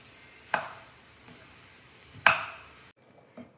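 Vegetables and noodles for paneer hakka noodles are tossed in a pan, with two sharp scraping clatters of a utensil and a faint knock afterward over quiet background hiss.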